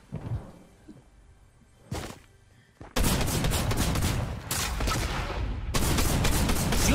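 Fortnite gunfire: a few isolated shots, then a dense, loud stretch of rapid, continuous fire that runs to the end with only brief breaks.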